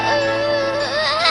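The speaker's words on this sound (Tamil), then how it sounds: "குட்டி பாப்பா அழுது பாரு" A cartoon baby cries in a loud, continuous wail with a wavering pitch in the Ninja Hattori animated series, close and alone.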